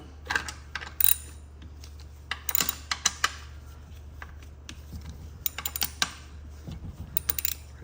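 A wrench cracks loose the valve body bolts on a 4L60E transmission, giving sharp metallic clicks and ticks in irregular bursts, fairly close and quiet, with no talk.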